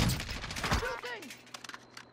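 Gunfire in the video game Warzone: a dense rapid burst of shots up front that thins into scattered faint pops, with voices mixed in.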